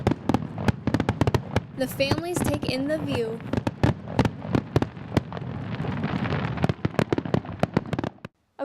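Holiday fireworks burst over Tom Hannafin River's Edge Park in Council Bluffs as a rapid string of sharp, booming pops and crackles. A narrator speaks over the display, and the bursts continue almost to the end.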